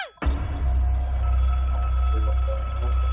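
A telephone bell rings loudly and continuously after a sharp onset, its steady bright ringing tone sustained with a low rumble beneath, no voices heard.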